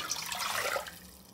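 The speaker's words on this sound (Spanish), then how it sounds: "Voy a poner a calentar las 2 tazas de agua." Water runs briefly into a pot set to heat, a short splashing, gurgling pour that swells and then eases off within a second or so, close and fairly soft, with no voices.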